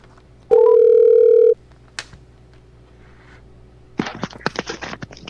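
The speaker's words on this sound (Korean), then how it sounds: "박 교수님을 전화로 연결해서 조사 결과 등에 대한 이야기를 들어보도록 하겠습니다" A single steady electronic telephone ring tone lasts about a second as a phone call connects on a Korean radio news program, followed by faint clicks and then a run of sharp keyboard-like taps.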